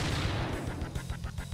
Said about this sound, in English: Oh, it's just a minigun.